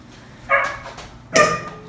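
Two close, loud barks from dogs wanting to come inside, spaced about a second apart, with no talk over them.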